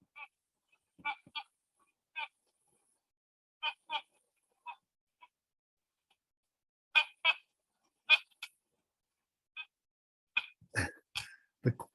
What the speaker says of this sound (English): The quacking noise is not ducks, it's bees. It's the sound coming from a bumblebee nest.